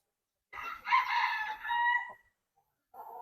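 Brahma roosters on a forest farm crow loudly and close by, one long drawn-out call followed by the start of another, with no talking.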